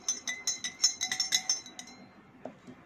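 A spoon stirs green food colouring into a glass of cold water, giving a quick run of bright clinks against the glass over about two seconds, then a softer tap or two.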